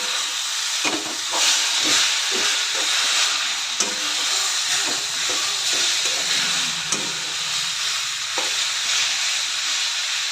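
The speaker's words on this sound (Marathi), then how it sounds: "मुळा घालून चांगलं परतून घ्यायचं आहे।" Grated or chopped radish sautéing in a pan for a Maharashtrian vegetable dish, a steady loud sizzle and hiss with occasional soft stirring taps and scrapes, no talk.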